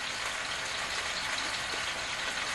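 Steady, dense sizzling of tomatoes frying in hot olive oil, a continuous crackling hiss with no voices.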